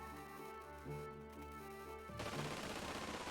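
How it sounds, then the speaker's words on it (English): A sudden burst of rapid gunfire in the video game Xenogears erupts after a steady electronic tone, crackling loudly in a dense, continuous volley. "That's gunfire."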